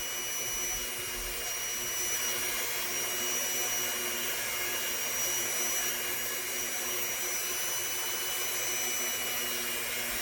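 A rotary tool grinds hard resin on a polymer clay pendant, a steady, continuous high-pitched whirring drone that holds level throughout without pauses or talk.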